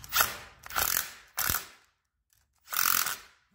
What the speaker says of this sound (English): I'm gonna go ahead and torque it to spec here.